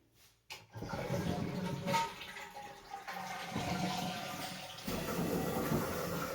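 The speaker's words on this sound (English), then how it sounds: "now we're going to flush the toilet" During an RV winterization, a toilet flushes after a brief click, followed by several seconds of continuous rushing, gurgling water and air, heard fairly quietly.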